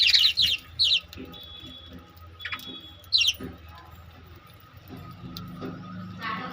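Pet lovebirds and a parrot give a few sharp, high chirps in quick bursts near the start and once more later, over low background rumble and household noise.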